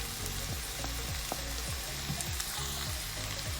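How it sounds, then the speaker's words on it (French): Minced meat filling for pastels, with added garlic, sizzles in a pan as it is stirred. A dense, continuous frying hiss carries a few light scraping strokes, close and steady, with no voices. "On mélange le tout et on laisse mijoter pendant 10 minutes sur feu doux"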